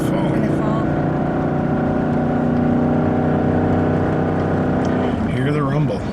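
Steady low rumble of a 2016 Ford F-150 with the 5.0L V-8 cruising a mountain road in the Rockies, heard from inside the cab as a constant drone, ending with a brief rise and fall.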